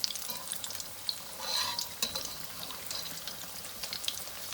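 Broccoli cheese balls frying in hot ghee, a faint continuous crackling sizzle with soft bubbling and brief stirring clinks, no voices.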